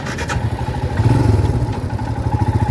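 A motorcycle engine runs steadily and close up on a bike ride from Kolkata to Jhargram through forest roads, with a continuous mid-pitched throb and some light clatter from the road.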